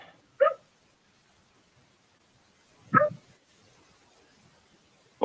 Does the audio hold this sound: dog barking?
yes